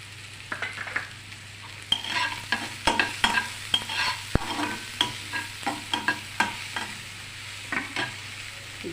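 Ingredients for an idli chaat, seasoned with turmeric and salt, fry in a pan while a spatula scrapes and stirs in quick, regular strokes, close up over a low sizzle, with no voices.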